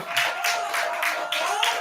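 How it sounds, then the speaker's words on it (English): Listening-party audience gives a round of applause for the first song: a short burst of clapping in uneven pulses, fairly close, over a faint steady tone. "Round of applause for this first song, man."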